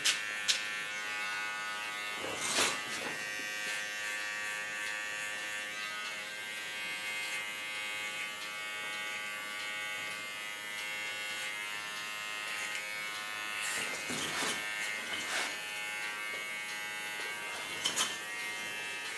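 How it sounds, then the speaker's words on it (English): An electric hair trimmer buzzes steadily at close range while it cleans up a neckline in a salon. The motor hum runs the whole time, and a few sharper clicks or brushes against the hair stand out now and then. No one speaks. "Clean the neckline of the hairs I don't need."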